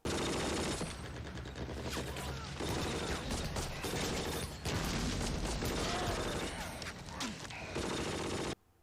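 Sustained battle gunfire from the Bastogne episode of the World War II drama Band of Brothers, loud and dense throughout with clattering bursts layered over a low rumble, cutting off abruptly near the end.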